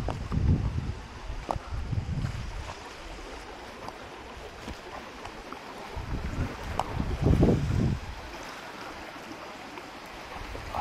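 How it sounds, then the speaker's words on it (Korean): A crosswind blows at a fishing spot, rumbling against the microphone in uneven gusts with low buffeting surges and a steady airy hiss, and no one speaks. "바람이 이렇게 뒷바람이면 좋을 건데 옆바람이 여기서 던질 건데. 바람이 관건이구만."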